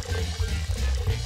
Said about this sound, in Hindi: अब हम इसमें थोड़ा पानी डालेंगे, ये बहुत जरूरी स्टेप है,